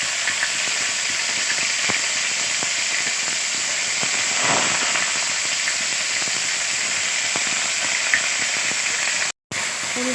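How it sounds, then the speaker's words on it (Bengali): Cauliflower florets fry in hot oil with whole garam masala in a wok, giving a continuous close hiss with scattered crackles and a brief louder burst of sizzling midway, and no speech. "ফুলকপিগুলো দিয়ে ভেজে নেব।"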